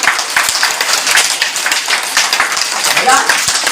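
A group of children at a primary school clapping hands, a fairly loud, busy patter of overlapping claps, with voices talking and calling out alongside it.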